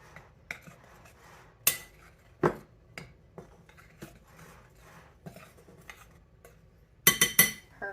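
A utensil stirs dry biscuit ingredients, flour and a tablespoon of sugar, in a bowl, giving sparse light clinks and scrapes with a few sharper knocks against the rim, close and quiet with no talking.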